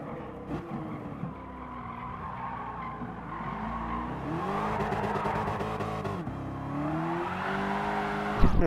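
A V8 muscle car in Gran Turismo Sport accelerates hard and skids, its engine note rising and falling over drawn-out tire squeal, loud and continuous with a sharp burst at the end.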